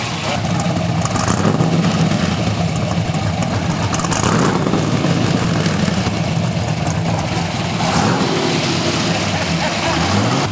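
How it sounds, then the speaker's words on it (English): A supercharged LS3 V8 in a 1967 Chevrolet Nova runs and idles loudly nearby with a rough, throbbing rumble, occasionally revving slightly. "We got the car running."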